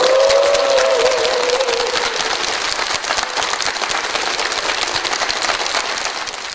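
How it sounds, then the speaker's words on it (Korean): A church congregation applauds a pastor after his special lecture, a loud, steady wash of many hands clapping that holds for several seconds with a brief tone at the start. "오늘 좋은 말씀 해주신 목사님께 감사의 박수 보내드릴까요?"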